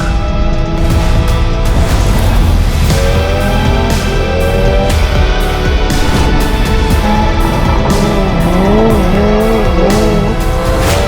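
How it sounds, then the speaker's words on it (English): A Hyundai IONIQ 5 N eN1 Cup electric race car runs loud and continuous, with a rising and falling electric whine and tire squeal as it drives hard through corners. "IONIQ 5N eN1 Cup Car."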